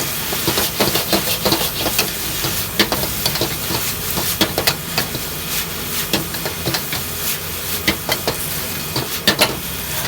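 Chinese celery tossed in a wok over high heat, a steady close sizzle and hiss of frying with repeated scraping and clattering stirs throughout, no voices.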